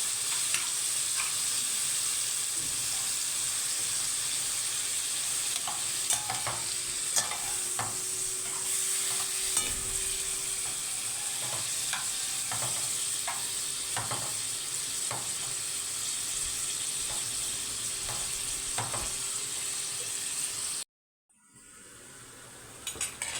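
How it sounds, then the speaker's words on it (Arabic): Minced meat sautéing in a pan for béchamel pasta, a steady close sizzle with frequent stirring scrapes and light clinks of a utensil against the pot, continuous until a brief drop near the end. "انا هعصج بقى اللحمه بتاعت المكرونه"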